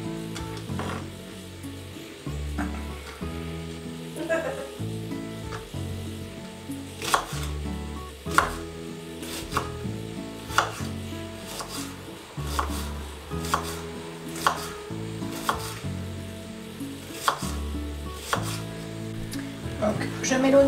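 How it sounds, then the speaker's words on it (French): A knife chops an onion into small pieces for a salad, the blade striking the board in a steady series of crisp, evenly spaced cuts over soft background music. "Je le coupe en petits morceaux."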